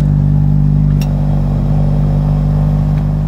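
A 2023 Honda FL5 engine in a cold start, a loud steady idle drone with a deep constant hum close by, following a sharp start at one second, with no talking.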